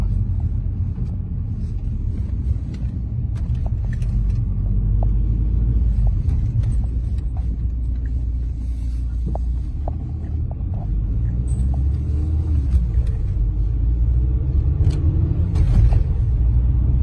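A turbocharged Audi A4 convertible drives along with a continuous deep engine rumble and road noise, loud and steady throughout with no voices.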